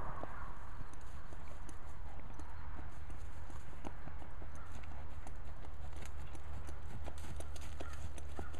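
A show horse trotting in an arena during dry work, steady hoof clip-clop beats repeating over a continuous low background rumble, moderately near.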